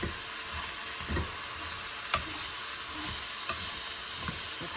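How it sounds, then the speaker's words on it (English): Vegetables sizzle and fry in a dark roux for New Orleans style gumbo, a steady close hiss broken by a few sharp scrapes and knocks as the spoon stirs the pot, with no talking. "now I'm just cooking my vegetables in that roux just for a few minutes"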